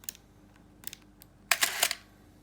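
Shutter of a Pentax 645N medium format camera, heard as a few faint light clicks followed by a louder, rattling double clack of the release, close up with no voices.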